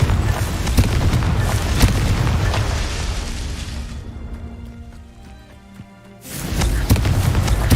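A loud, booming blast from the Confringo fire spell in the Hogwarts Legacy video game, with a heavy explosive burst and a rumbling tail that fades out before another boom starts.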